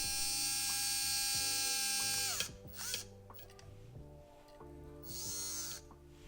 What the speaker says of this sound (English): So that's winch line out.